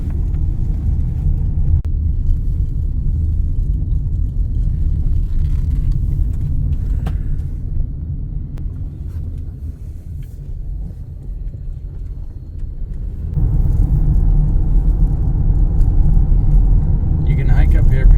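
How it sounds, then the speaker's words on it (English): A car drives up Mount Scott, Oklahoma, its steady interior road rumble and engine drone continuous and close, dipping briefly midway before swelling louder, with a voice talking over it. "now we're going to drive up."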